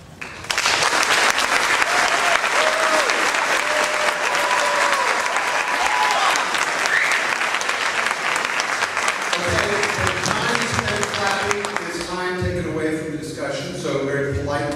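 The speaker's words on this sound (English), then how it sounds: "quick round of applause will be in order" An audience at a 2006 Ypsilanti mayoral candidates debate claps loudly and steadily for several seconds, then the applause thins as voices and speech rise over it toward the end.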